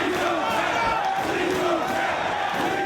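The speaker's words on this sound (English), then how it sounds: "Listen to the crowd screaming" A wrestling crowd at a Ring of Honor Supercard of Honor main event roars and screams in a dense, sustained wall of noise, loud and unbroken throughout.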